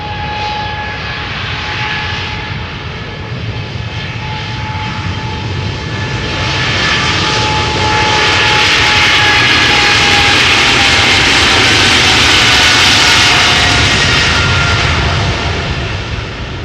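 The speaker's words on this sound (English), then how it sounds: "this is going to be the last airplane of the day, Air Canada" An Air Canada airliner's jet engines roar steadily at Amsterdam Schiphol Airport, the broadband rumble swelling louder midway as the plane passes nearby, then easing slightly, with no voices.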